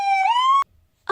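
A toy police car siren gives a short, loud rising electronic wail that cuts off abruptly, then starts again after a pause.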